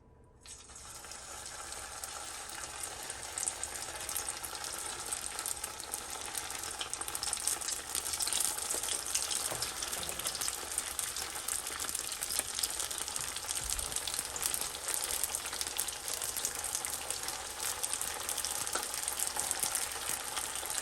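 Samosas frying in hot oil: a steady, dense bubbling sizzle that starts with a burst as they go in and continues evenly throughout, close and without talking.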